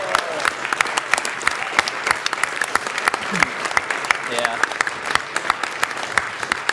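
An audience at a speedrun charity event applauds steadily, many hands clapping in a dense patter, with a brief spoken word near the start.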